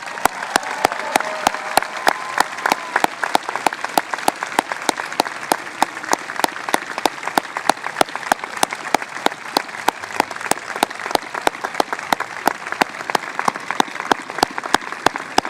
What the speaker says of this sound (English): Let's give Annette a big round of applause.